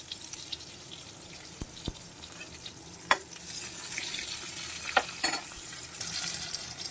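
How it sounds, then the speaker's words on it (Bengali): Eggplant slices dusted with turmeric fry in hot oil with a steady close sizzle, broken by a few sharp clicks and taps from utensils against the pan. "এরপর আমি বেগুনগুলোকে ভেজে নেব।"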